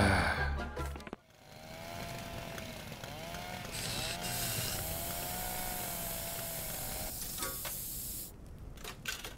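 A burning saw in the game Little Inferno gives a steady, loud crackling and hissing roar with whining mechanical tones, holding from start to finish after a short burst at the opening.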